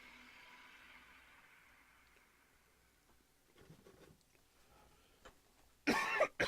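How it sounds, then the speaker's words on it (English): A single harsh cough bursts close to the microphone near the end, after several seconds of quiet room tone and faint shuffling, during a live commentary stream reacting to the E3 2017 Microsoft conference. "I'm gonna try and not cough in the microphone as much as possible."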